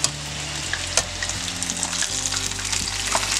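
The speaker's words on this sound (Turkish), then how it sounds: "Çevirdim, diğer taraflarını da kızartıyorum." Çiböreği pastries frying in hot oil, with a steady dense sizzle and crackle and occasional stirring clicks throughout, with a low hum underneath.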